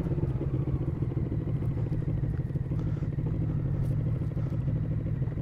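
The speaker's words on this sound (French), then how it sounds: "c'est le frein moteur" A motorcycle engine drones steadily and loudly up close, a continuous throbbing rumble with clattery mechanical texture as it slows on engine braking, on a motorcycle driving-school ride.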